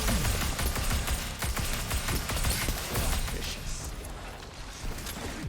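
Gunfire from the Vex Mythoclast, an exotic weapon in the game Destiny, heard as dense, rapid shots in a continuous loud barrage mixed with combat noise.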